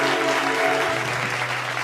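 Audience applause at an awards event for a winner, a dense, loud wash of clapping that holds steady through the whole short stretch.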